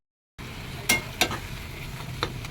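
Fish and tomato curry is stirred in a hot pan, a steady sizzle running underneath as a spatula scrapes the pan in three distinct strokes spaced about a third of a second apart, close and moderately loud.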